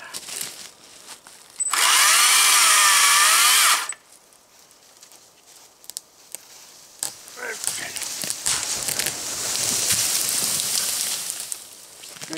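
A STIHL MSA 120 C-B cordless chainsaw runs in a loud, steady high-pitched whine for about two seconds, then stops. Bursts of clattering and cutting noise follow, with a longer rising and falling stretch later on.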